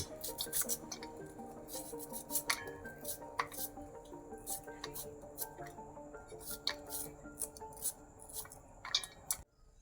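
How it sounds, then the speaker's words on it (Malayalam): Onions are cut on a board in quiet, irregular knife taps and light clicks, with the occasional faint clink of kitchenware between the strokes. "ഉള്ളി ചെറുതായി മുറിച്ചിട്ട്"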